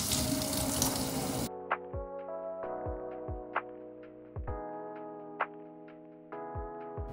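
Tap water runs steadily into a sink while a face is rinsed, stopping after about a second and a half, followed by several ringing drips and knocks spaced irregularly in the quiet.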